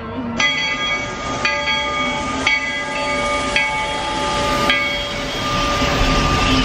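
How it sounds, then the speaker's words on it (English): A train rumbles past close by with rhythmic clacks over the rails and a sustained tonal squeal, loud and steady throughout. "And there's the train."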